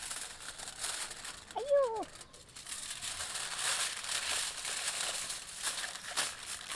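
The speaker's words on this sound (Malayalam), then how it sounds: "ഇനി നമുക്ക് നമ്മുടെ ഒരു ചിക്കനെ നല്ല ഫോയിൽ പേപ്പറിലിട്ട് നല്ല മടക്കാം" Aluminium foil crinkles and crumples steadily as a raw chicken is wrapped and folded in it, with a brief exclaiming voice partway through.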